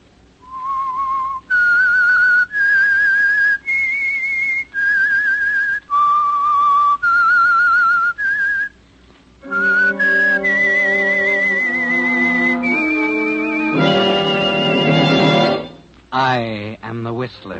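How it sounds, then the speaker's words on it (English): A loud, clear whistled theme melody opening the old-time radio mystery show The Whistler, a sequence of pure sustained notes that rises and falls, then gives way to orchestral music. "That whistle is your signal for the Signal Oil Program"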